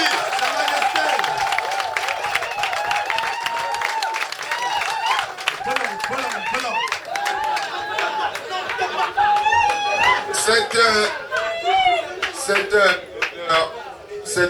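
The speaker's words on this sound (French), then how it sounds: "Je vous demande d'applaudir Sa Majesté" An audience applauds Paul-Marie Biloa Efa, a traditional chief and fifth of the Omba Bisso dynasty, at an installation ceremony. Dense clapping runs steadily throughout, mixed with crowd chatter and a voice speaking over it.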